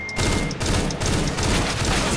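Gunfire in a Counter-Strike: Global Offensive deathmatch comes as a rapid, loud automatic burst of close shots, dense and continuous for about two seconds after a brief opening gap.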